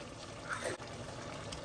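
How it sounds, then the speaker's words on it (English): Half a cup of water poured into 16 ounces of corn in a pot for a Southern Sunday supper, a soft steady pouring trickle lasting under two seconds, near and quiet with no talk. "Then toss in a half cup of water."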